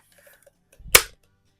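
A single sharp crack from a Gamo PR-45 SSP target air pistol fired in a garage, one close, loud report with a brief thump, and quiet before and after.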